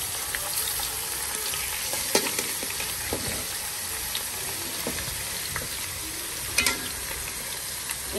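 Marinated mutton, with liver and lungs mixed in, hits a hot pot and fries in a steady loud sizzle, with occasional scrape-and-stir clatters breaking through, and no voices.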